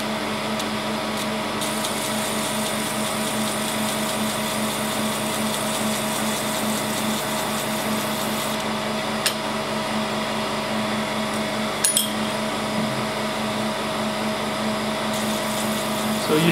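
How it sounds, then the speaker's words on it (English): A bench grinder sharpens scraping blades to a point at a set -5 degree angle, giving a steady, continuous motor whine with grinding hiss held at an even level for the whole stretch, close and loud, no talking. "so this gives me a lot of control over how I grind these to a point"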